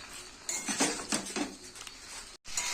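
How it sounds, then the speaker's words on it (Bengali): Boiled jackfruit being sautéed in a pan, mostly spatula scraping and metallic clinks against the pan in a loose rhythm, with a soft sizzle faintly beneath, close and fairly quiet. "এঁচোড়টা দিয়ে আমি ভালো করে কষিয়ে নেব।"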